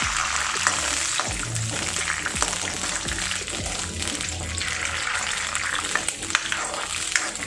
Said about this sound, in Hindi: अभी इसमें मैं पहले पीस को फ्राई कर लूँगी।